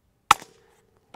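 A suppressed shot from a brand-new Savage B FESR .22 rifle with a KGMade Swarm 22 titanium silencer fires standard-velocity ammunition into a dry dirt berm: one sharp, close crack with a short tail, then a second faint snap near the end.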